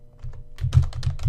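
A name is typed on a computer keyboard in a quick run of close, crisp key clicks lasting about a second, with no talking.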